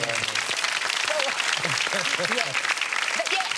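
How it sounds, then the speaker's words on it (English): Studio audience applause on a wellness talk show, a dense steady clatter of clapping at full level throughout, with voices talking and laughing over it. "I think that deserves a round of applause."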